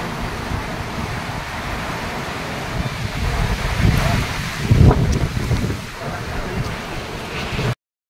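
Strong typhoon wind roars against the microphone over rushing, fast-moving floodwater in Danao, Cebu, a dense and continuous roar that swells in the middle before cutting off abruptly.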